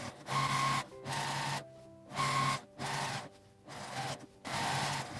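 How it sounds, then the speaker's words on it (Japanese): A sewing machine stitching around the edge of a fabric sewing machine cover, running in several bursts with short pauses between them, steady and close. "端ミシンを1周かけます。"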